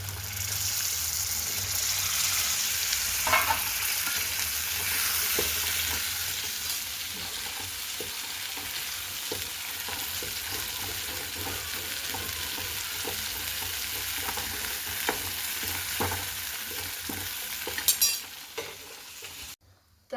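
Green peas fry in hot oil, a dense, steady sizzle broken by repeated stirring scrapes and a few sharper clinks, close and continuous until it cuts off at the end.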